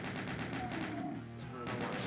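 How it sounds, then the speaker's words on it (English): The chain gun fires in DOOM II as a steady run of rapid, evenly spaced shots that carries on for about two seconds over a dense background din. "we're gonna just go ahead and switch the chain gun"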